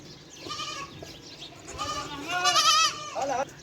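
Goats bleat at a village farm near Taif, Saudi Arabia, with several wavering calls close by, one after another and growing louder toward the end, over faint background noise.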